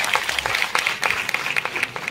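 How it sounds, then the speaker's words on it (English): Applause for students at a school annual day celebration, a steady, dense patter of many hands clapping throughout, moderately loud and close, with no speech over it. "a big round of applause for the students"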